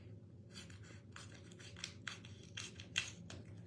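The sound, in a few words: scissors cutting paper for craft cards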